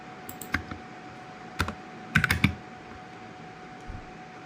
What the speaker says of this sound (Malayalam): ഞാൻ സ്പേസ് ഇട്ട് ടൈപ്പ് ചെയ്തു